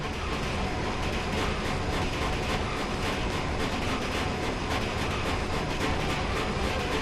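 A moving train in Final Fantasy VIII rumbles and rattles without a break, a dense, loud rolling clatter heard close up throughout.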